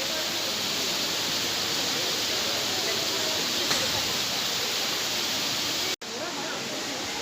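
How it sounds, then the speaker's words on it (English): Steady, broad rushing water from an indoor waterfall in the Temperate House at Kew botanic gardens roars continuously, loud and close, with no pauses apart from a brief cut near the end. "Look at that waterfall."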